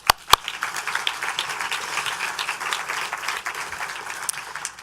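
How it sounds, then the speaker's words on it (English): Audience applause at an education board meeting, a few sharp initial claps followed by steady moderate clapping from a seated crowd, fairly even and somewhat distant. "Let's give them a round of applause."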